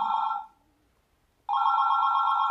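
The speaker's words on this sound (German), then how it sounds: "Das Telefon klingelt." Telephone bell ringing in two loud electronic bursts separated by about a second of silence, close and clear with no voices.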